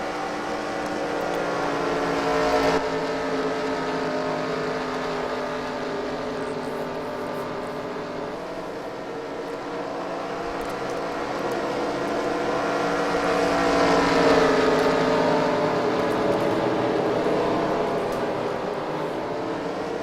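Race car engines idle and rev in a steady, loud mechanical drone as the field rolls toward the start of the Pikes Peak race, with a swell of rising engine pitch midway and no voices.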